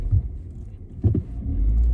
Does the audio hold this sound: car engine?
yes